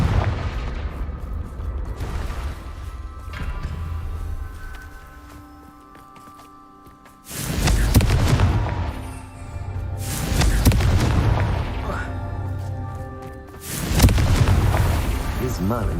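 Confringo blasting spell detonations in Hogwarts Legacy, several loud broadband booms a few seconds apart over a low, busy game ambience with music.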